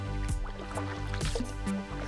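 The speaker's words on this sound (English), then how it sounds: "I feel like I'm paddling across the little lake." A canoe or kayak paddled across a wide stretch of the Suwannee River in Florida, with soft repeated splashes and drips of the blade against a steady low hum.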